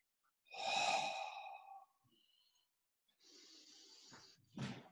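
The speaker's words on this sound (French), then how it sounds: "Respiration abdominale." Abdominal breathing during a yoga session: one long, close inhale-like breath, a short pause, then a steadier airy breath ending in a brief, stronger puff, quiet and isolated.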